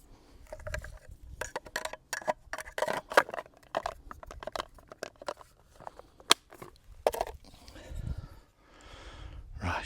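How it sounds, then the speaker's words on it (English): A knife scoring lines into green wood to carve a spoon outdoors at a camp: close, irregular short scraping cuts and snicks, with breathing and rustling between strokes. "Now I need to cut 2 lines as well."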